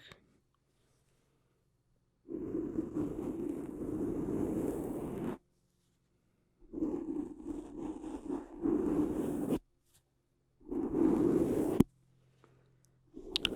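Soft cloth gloves rubbing and brushing right against a microphone in three separate bursts, with quiet pauses between them.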